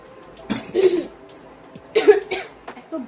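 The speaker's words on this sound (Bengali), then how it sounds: "এত বাজে কাশি হয়েছে না আমার।" A woman coughs in several harsh, close bursts spread across a few seconds, each a short cluster of rough coughs with brief quiet gaps between.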